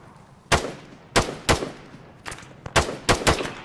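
Sharp, loud rifle shots in Arma 3 crack out one at a time, about seven reports spaced irregularly with echoing tails, with near-silent gaps between them.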